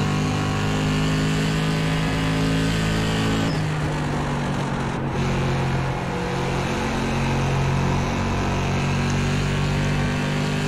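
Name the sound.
SK Modified race car engine in iRacing video game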